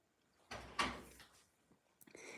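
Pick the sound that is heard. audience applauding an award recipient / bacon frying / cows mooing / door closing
door closing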